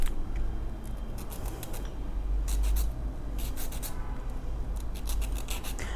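A sharpening stone rubbed on the floor to smooth a burr on a Jack A4C heavy-duty sewing machine part, giving a steady gritty scraping with repeated strokes, fairly close and alone.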